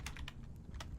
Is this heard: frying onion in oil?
no